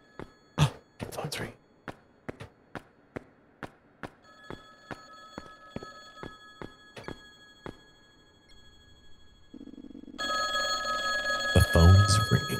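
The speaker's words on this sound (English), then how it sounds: "The phone's ringing." A telephone rings in the video game Lake Haven - Chrysalis, a dozen sharp evenly spaced rings giving way to a steady hum and louder rumbling game sounds at the end.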